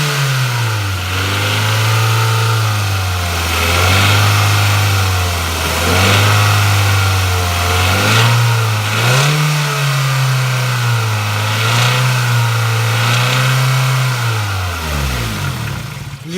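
Kia Ceed engine, suspected of a knock from a rattling timing chain or valves striking pistons, revving up and down repeatedly in a steady loud drone with rising and falling pitch, with no one speaking.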